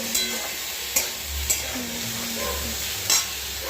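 Okra sizzling and frying in a pan, a steady hiss with a few sharp stirring scrapes at intervals, close by and fairly quiet.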